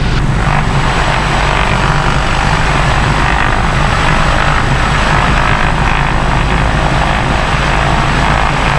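A Diamond DA40 light airplane's piston engine and propeller drone loudly and steadily from inside the cockpit while taxiing, a constant dense roar with no pauses.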